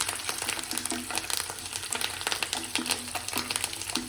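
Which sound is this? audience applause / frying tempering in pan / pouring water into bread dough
frying tempering in pan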